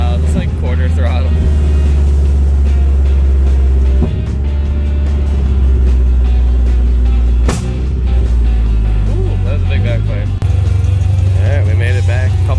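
Inside a 2001 Subaru Outback enduro car at Brewerton Speedway, the engine runs loud and steady at quarter throttle, a heavy continuous drone with slight pitch shifts and muffled voices underneath.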